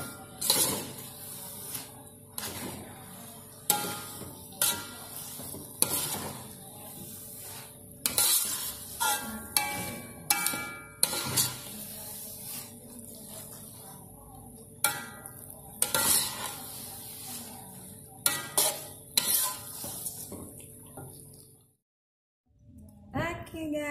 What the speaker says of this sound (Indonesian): Sekarang kita masukkan tomat sama daun sop. Kita aduk lagi ya guys.